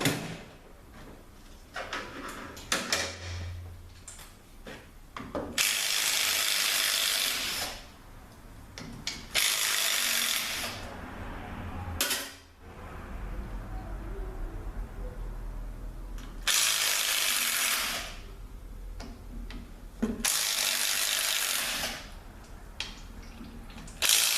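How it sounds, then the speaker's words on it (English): Small impact gun working on 10 mm transmission pan bolts during a 4L30E teardown, with several loud buzzing bursts of a few seconds each separated by quieter pauses, some metallic clatter between them. "Let's see if the little gun can handle that."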